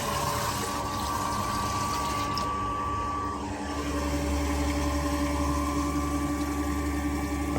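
A water pump runs with the tap open, priming and then pumping: a steady mechanical drone mixed with rushing water, which shifts to a deeper, fuller hum partway through, close and continuous.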